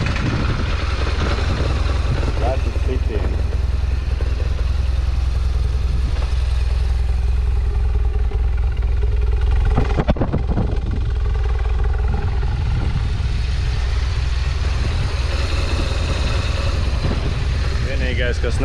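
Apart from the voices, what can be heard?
BMW R1200ST motorcycle engine starting and idling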